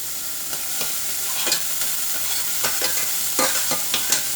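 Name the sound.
onions sautéing in a pan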